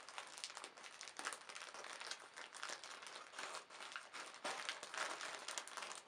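A plastic package bag from an AliExpress Spider-Man costume order crinkles steadily as it is opened, a continuous close rustle that swells and dips for several seconds with no voices.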